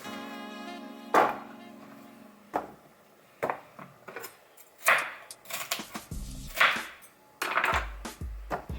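Vegetables chopped into chunky bits with a dull kitchen knife on a board, a series of irregular, close thuds and knocks with pauses between strokes.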